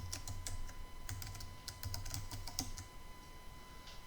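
Quick, irregular keystrokes tap on a computer keyboard at close range over a faint steady electrical hum, with the clicks thinning out after about three seconds.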